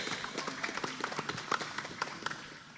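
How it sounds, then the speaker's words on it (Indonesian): Audience applause at an evening cultural talk show during a village merti dusun celebration in Kulon Progo, Yogyakarta; a crowd claps in a moderate, fairly dense round that tapers off toward the end. "Kita berikan tepuk tangan dialog pada malam hari ini"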